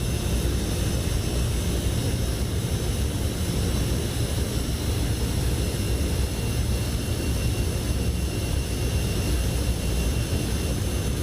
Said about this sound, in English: The massive Rolls-Royce Dart turbofan.